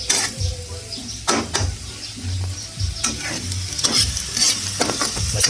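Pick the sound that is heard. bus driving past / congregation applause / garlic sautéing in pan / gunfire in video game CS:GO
garlic sautéing in pan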